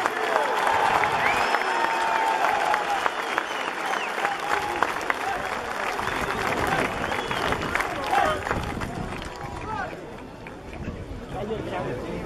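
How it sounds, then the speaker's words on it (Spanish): A large crowd at a rural rally in Uruguay applauds loudly and continuously, with clapping, chatter and scattered shouts mixed in throughout. "¡Fuerte el aplauso y arriba el grito de Uruguay!"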